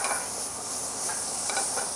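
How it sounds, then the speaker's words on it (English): Butter sizzles steadily in a frying pan while lobster mushrooms are cooked, a continuous close hiss and crackle without any voices. "You want that sizzle to happen."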